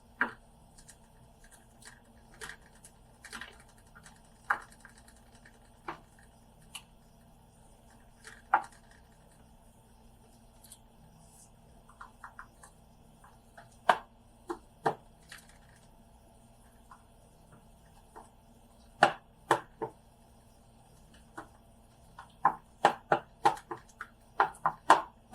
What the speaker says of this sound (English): I'm going to go ahead and poke a few holes.